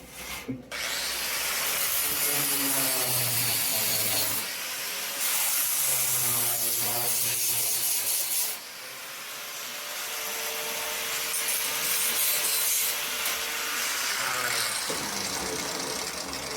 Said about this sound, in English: Now, let me grind this garbage back off and maybe I can weld.